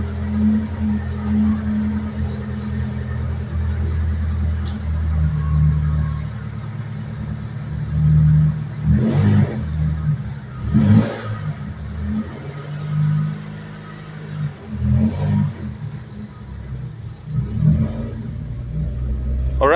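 A Mitsubishi Lancer with a 4G15 EFI 12-valve engine drives along with a steady low engine rumble from inside the cabin, swelling now and then with brief revs, moderately loud throughout.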